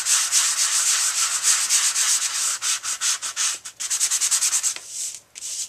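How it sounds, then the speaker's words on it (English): A sanding block rubbed over color core cardstock in quick back-and-forth strokes, a loud, close scratchy rasp with rhythmic pulses and a brief pause near the end. "And I'm just going to sand this."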